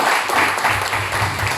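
A church congregation applauding during a sermon, with loud, continuous clapping from a crowd filling the whole short moment, and a low murmur beneath.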